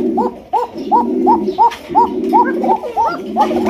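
Pakistani Danish pigeons, a black pair, call in a quick, evenly spaced series of close, clear cooing notes that repeat about twice a second with no talk over them.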